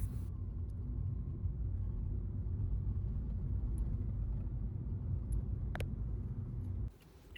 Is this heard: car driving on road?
yes